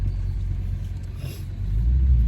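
An Audi S8 with a Lamborghini-derived V10 pulls away, giving a steady, deep engine rumble from close range that swells slightly toward the end, with no voices over it.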